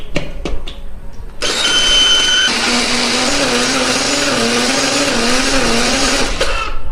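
A blender grinds a spice paste with oil for fried noodles, starting with a few clatters and then running loud and steady for several seconds with a slight wavering whine before stopping abruptly.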